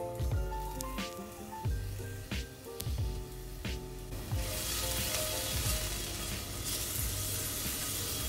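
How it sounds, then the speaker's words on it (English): Jalapenos fry in olive oil in a cast iron skillet, giving a loud, continuous close sizzle with crackling pops and occasional stirring scrapes and knocks, no talking. "Into my cast iron skillet, I'm gonna put a little bit of olive oil so we can cook the jalapeno up."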